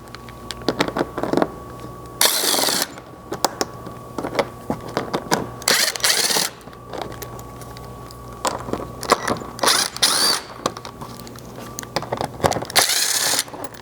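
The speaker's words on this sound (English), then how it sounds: "I grabbed a 7mm socket and we're going to remove the 10 screws along the front edge here" A power tool fitted with a 7mm socket backing screws out of a Chevy Colorado's plastic underbody panel, with several short loud whirring bursts spaced apart and clicks and rattles between them.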